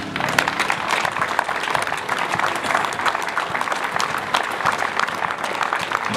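Dense, sustained applause from an outdoor Bastille Day (14 July) gathering in France, steady and fairly loud throughout with many overlapping claps and no break.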